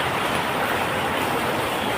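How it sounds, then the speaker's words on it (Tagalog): Heavy rain pours steadily, a dense, loud, unbroken hiss with no gaps or voices. "Talagang mababasa ka kasi malakas yung ulan."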